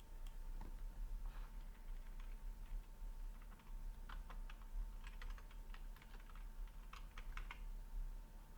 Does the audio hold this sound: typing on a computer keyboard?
yes